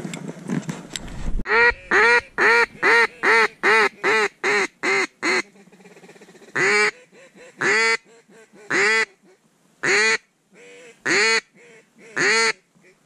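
Ducks quack loudly and close in a rapid series of nasal calls, then more spaced calls, in a wetland setting during a late-season duck hunt, with a brief noise at the start.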